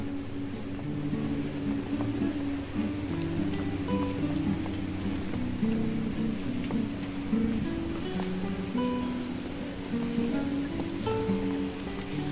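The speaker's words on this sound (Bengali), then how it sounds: "বৃষ্টি অলরেডি শুরু কিন্তু হয়ে গেছে" Rain falls in a forest retreat with tents and cottages, a soft, steady patter that continues evenly for the whole stretch at moderate volume, with no talking.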